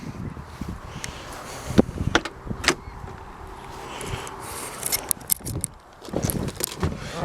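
Someone climbs into a classic Chevy car, with scattered clicks, thumps and rustles of a door and a body shifting on the seat. Sharper knocks punctuate a quiet interior, and no one speaks.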